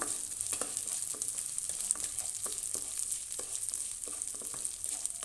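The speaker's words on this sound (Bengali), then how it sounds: "তেল গরম হয়ে গেছে, এবার দিয়ে দিচ্ছি এর মধ্যে মুগ ডালটা।" Moong dal fries gently in hot oil over a low gas flame, giving a soft continuous sizzle with faint scraping stirs, close and quiet, with no talk.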